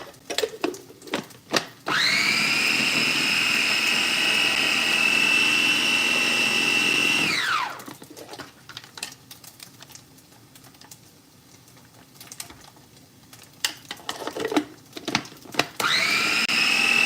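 An electric food chopper whirs loudly for several seconds, cuts off, then starts again near the end, chopping dry ingredients for sautéed shrimp vermicelli, with clattering and knocking between runs.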